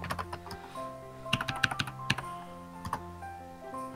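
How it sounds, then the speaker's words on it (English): Rapid clicks of a computer keyboard being typed on during a Minecraft game session, irregular bursts of keystrokes over a steady background hum, fairly close and moderately quiet. "He's typing something."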